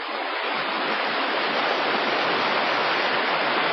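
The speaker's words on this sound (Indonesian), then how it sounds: "Deburan air terjun mulai mereda" Roar of the Sigura-gura waterfall, a loud, steady broadband rush of falling water with no breaks or voices.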